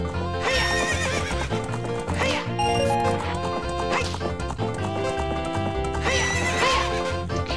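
Epona, the horse in Zelda: Ocarina of Time, whinnies loudly over continuous game music, with clip-clopping hoofbeats.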